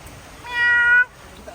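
A lion at the Singapore Zoo gives one short, tonal, meow-like call lasting about half a second, fairly close and clear over faint background murmur.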